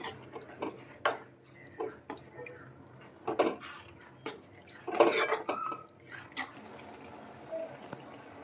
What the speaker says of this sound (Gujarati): સારી રીતે મિક્સ કરી લેશું.